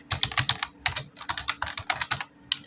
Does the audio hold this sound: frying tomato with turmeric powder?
no